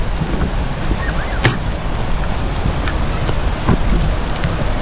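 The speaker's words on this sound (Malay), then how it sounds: "Dah hujan dia." Rain pours steadily, a dense continuous hiss with scattered sharper drops striking a surface, loud and close, with no talk.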